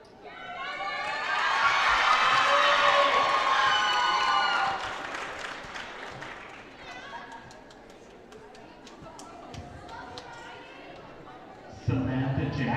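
A gymnasium crowd at a high school volleyball senior night cheers and claps loudly for several seconds, then fades into scattered chatter and applause, with a sudden burst of noise near the end.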